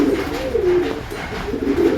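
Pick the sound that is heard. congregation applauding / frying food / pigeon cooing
pigeon cooing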